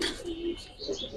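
A restless Giribaz pigeon gives a brief, soft coo close up, two short throaty pulses in quick succession with faint chirpy overtones.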